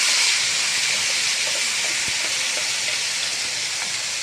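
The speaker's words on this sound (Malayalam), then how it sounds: "ഇനി നമ്മൾ അരച്ചു കൊണ്ടുവന്നത് ഈ കൂടെ ഒന്ന് ഒഴിച്ചു കൊടുക്കാം." A loud, steady hiss of ground chutney paste poured into hot oil, holding constant for several seconds with only faint crackles beneath it.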